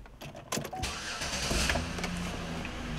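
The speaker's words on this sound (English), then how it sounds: "Get in and start it up." A Saturn Vue SUV engine starting: a brief crank that catches and settles into an even idle, heard from inside the cabin with no talking.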